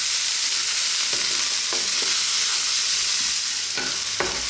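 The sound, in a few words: onion frying and stirred on high heat for fried rice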